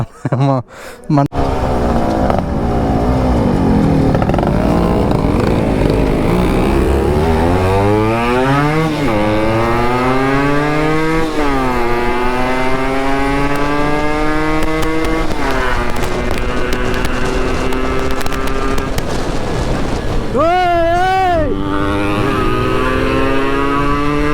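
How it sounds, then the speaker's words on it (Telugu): Two Yamaha RX135 big bore motorcycle engines rev together on a night ride, loud and close, their pitch climbing and dropping in long sweeps that run almost without a break. "రెండు RXలది ఎట్టు వినిపిస్తుంది తెలుసా సౌండ్"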